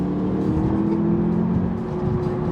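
A new Audi's engine pulls steadily under acceleration, a continuous close-up drone with a sustained low tone, heard from inside the car with no talking.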